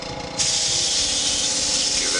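Airbrush spraying a thin coat of Spectratech transparent metallic blue paint on a custom action figure, a steady close hiss starting a moment in and running continuously over a low background hum.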